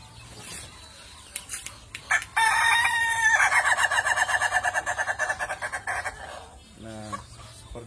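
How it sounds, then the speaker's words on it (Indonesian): An Ayam Ketawa, the Indonesian laughing chicken, from Meulaboh crows in a long rapid stuttering run of pulsed notes that sounds like laughter, loud and close, followed by a shorter second burst. "ketawanya ayam ketawa ini"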